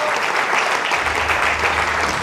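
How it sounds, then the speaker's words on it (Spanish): Applause in a church class, a dense wash of many hands clapping at once, loud and continuous for the whole couple of seconds with no talk over it. "démosle un aplauso fuerte"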